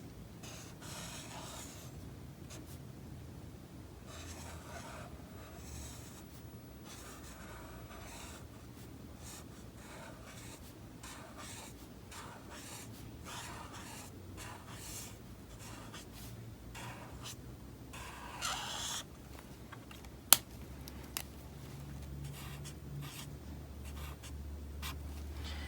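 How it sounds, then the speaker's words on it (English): A Crayola chisel-tip marker writes cursive on paper, giving faint, continuous close scratching strokes with small pauses between letters and a couple of sharp taps near the end. "let's try to do some cursive with this chisel tip"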